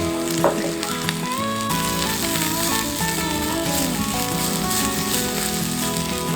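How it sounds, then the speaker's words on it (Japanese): Vegetables stir-frying over a garden fire sizzle loudly and continuously, a dense steady crackle with occasional clinks, close and with no talk. "野菜炒め。"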